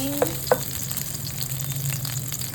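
Garlic browning in a hot pan for a home-style pork soup, a steady low sizzle running throughout, with two brief utensil clinks near the start.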